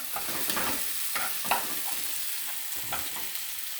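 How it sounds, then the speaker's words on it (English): Onions frying in a pan for a mung dal dish, a soft continuous sizzle with several scraping stir strokes of a spoon, close and unaccompanied by talk. "now you add your onions and give that another stir"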